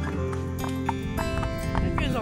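A pony walking, its hooves clip-clopping in a slow, irregular rhythm under continuous close talking, with the voice dominating and the hoofbeats lower in the mix.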